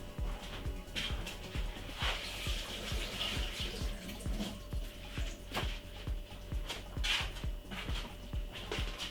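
Running tap water splashes steadily over sweet gem lettuce leaves being washed, a close continuous flow broken by repeated soft thuds and knocks as the leaves are handled, with no talk.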